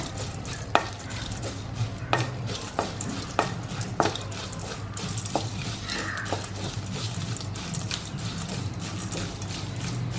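Dried shrimp frying in a pan for chammanthi gives a soft, steady sizzle with repeated clicks and scrapes of stirring, fairly quiet and close, with no talking.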